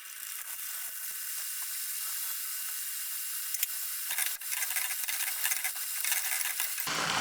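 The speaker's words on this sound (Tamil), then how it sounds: "இப்போ நம்ம கட் பண்ணி வச்சுருக்க பீஸ்களை இதில் போட்டு பொரித்து எடுத்துடலாம்." Pieces of masala poori dough frying in hot oil, a constant bright sizzle and crackle heard up close, with occasional stirring taps and scrapes.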